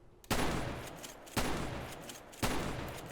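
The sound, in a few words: shotgun gunfire in SAMP video game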